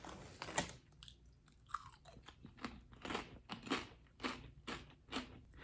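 Kettle-cooked spicy potato chips crunched while chewing, a close, loud run of sharp crackling bites repeating steadily, with no talking.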